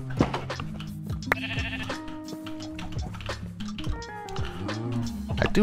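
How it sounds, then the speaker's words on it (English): Sheep bleats from the game Minecraft, several wavering calls close by over a few seconds amid scattered clicks and in-game sounds. "We have a sheep."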